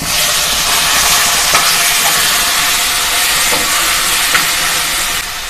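Taro and dry spice powders stir-fried in a pan for a Bengali kochu dish, giving a loud, steady sizzle and hiss throughout with faint scraping of the stirring spoon.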